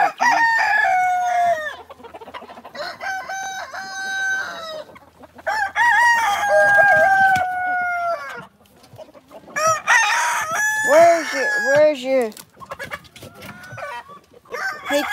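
A pen full of roosters crows over and over in a Georgia yard, with loud overlapping cock-a-doodle-doos close by and clucking between the calls.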